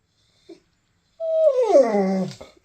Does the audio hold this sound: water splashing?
no